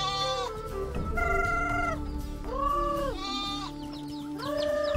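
Goats on a small livestock farm bleat in a series of loud, wavering calls, several animals overlapping closely with no talk.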